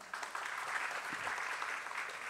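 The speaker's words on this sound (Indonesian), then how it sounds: "Aplaus untuk beliau." An audience at a research talks and discussion event gives a steady round of clapping for a guest speaker, a dense even patter heard from within the hall, with no voices over it.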